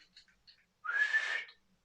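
A voice imitates a referee's whistle in a football match, giving one short, shrill, steady whistle tone after a few soft breathy sounds, heard alone and fairly close.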